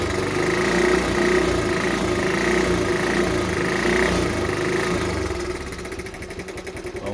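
A 1970 Honda ST50 Dax small motorbike engine runs steadily and loudly close by with a buzzing, vibrating note, then drops to a lower idle toward the end.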